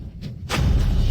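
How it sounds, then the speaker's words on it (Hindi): A sudden booming blast erupts after a brief crackle, then a low rumbling roar lingers, loud and close, like a fantasy lightning explosion. "जादुई बिजली बुलाओ, विस्फोट।"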